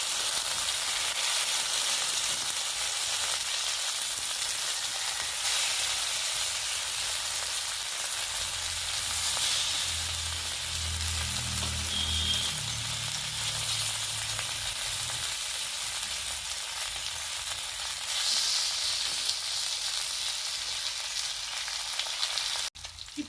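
Fish slipped into hot oil with curry leaves and coriander sizzles and fries steadily for a long stretch, a constant crackling hiss with a brief louder bubbling swell midway.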